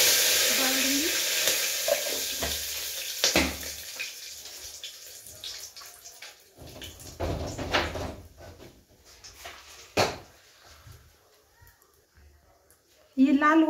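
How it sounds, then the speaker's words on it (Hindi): Garam masala and bay leaf hit hot oil with a strong hiss that fades into a gentler sizzle, broken by a few utensil clatters and knocks nearby. "ऑयल गर्म हो गया है। अब मैं इसमें गरम मसाला और ये तेज पत्ता डाल दूंगी।"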